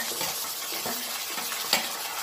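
Onion frying in a hot pan, a soft steady sizzle with light stirring scrapes and one sharp utensil clink, close and fairly quiet.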